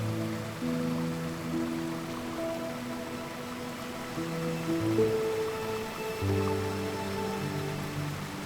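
Steady rain falls in a forest near waterfalls, a dense, even patter of drops on surfaces that holds at moderate level throughout, with no voices.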